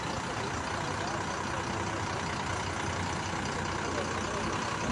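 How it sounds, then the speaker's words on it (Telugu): Loaded 14-tyre lorry carrying 30 tons, its engine idling as it rolls without acceleration: a steady, loud, continuous low rumble with broadband engine noise throughout, no revving. "30 tons లోడ్ వేసుకొని ఒక వెహికల్ వితౌట్ యాక్సిలరేషన్లో మూవ్ అవుతుంది ఇక్కడ మనకి."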